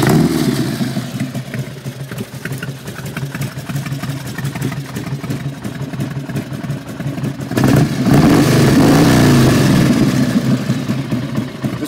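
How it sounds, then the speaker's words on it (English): A 1993 Harley Davidson Electra Glide Classic FLHTC motorcycle engine idling nearby with a steady loud rumbling throb that swells slightly louder toward the end, with no talk. "Want to fire it up, let it idle for you while we go through a couple of the electronics."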